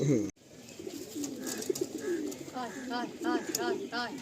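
Pigeons of Madrasi and Giribaj breeds cooing nearby, a series of soft repeated throaty coos growing more frequent toward the end, with a low background murmur.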